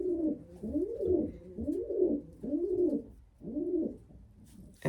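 A racing pigeon coos inside its coop, a run of four or five rolling, throaty coos in a steady rhythm, close and fairly loud with nothing else over it.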